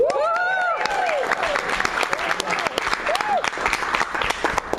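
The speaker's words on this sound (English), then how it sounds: "Was that applause for me being 76" Comedy club audience breaks into loud, sustained applause with whoops and cheers, many claps rattling close together, with a voice calling out near the start.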